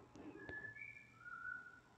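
A bird whistles a few clear, sliding notes, imitating a human whistle, faint and alone against quiet background hum.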